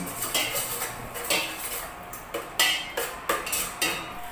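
Garlic and onion saute in a pan while a spatula or spoon scrapes and knocks against the metal in a fairly regular rhythm. A soft sizzling hiss runs underneath the close clatter.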